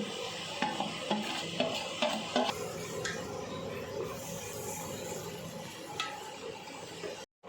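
Capsicum sizzles in a pan as it is stirred with a spoon; a steady low frying hiss runs throughout, with a few scraping clinks of utensil against the pan early on, fairly quiet before ending abruptly.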